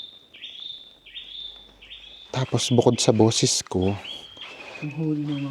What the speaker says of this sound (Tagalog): yung huni ng mga ibon, yung maririnig nyo.